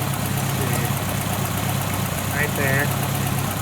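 A car engine idles steadily on a Holley 5200 carburetor while the idle mixture screw is being tuned. The loud, even mechanical hum continues throughout, and someone briefly speaks over it.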